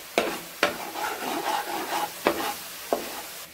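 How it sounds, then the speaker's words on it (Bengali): Ground chilli, coriander and cumin powders stirred in a pan for Punjabi chicken curry: a few sharp, spaced spoon scrapes and knocks over a soft, near sizzle. "একটু নেড়ে চেড়ে নিব।"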